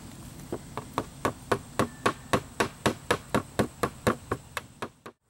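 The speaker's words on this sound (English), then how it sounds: "I'm going to use 3/4 inch staples with the hammer" A rapid series of sharp hammer blows driving 3/4 inch staples into wood, about fifteen strikes in a steady rhythm, close and clear, ending abruptly.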